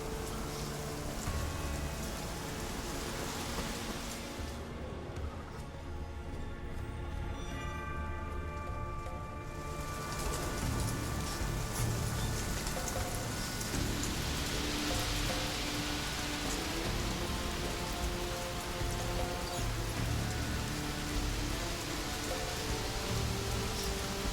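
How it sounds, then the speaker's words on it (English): Steady rain falls continuously throughout in The Witcher 3: Wild Hunt, a dense even patter with faint tonal music drifting underneath, no voices. "Looks like rain."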